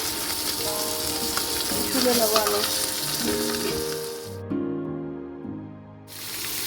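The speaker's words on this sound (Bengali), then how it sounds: "পাবদা মাছগুলো আমার ভাজা হয়ে এসছে" Pabda fish fry in hot oil in a pan, a dense continuous sizzle and crackle that eases slightly near the end, with a person talking over it.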